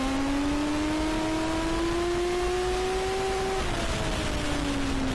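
Race car on the Nogaro circuit accelerating hard, engine pitch climbing steadily before a gear change drops it and it builds again, loud over constant wind and road noise.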